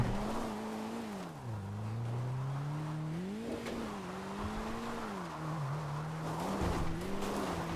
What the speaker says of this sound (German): Ich fahre jetzt gerade mit dieser typischen GTA 4 Karre rum.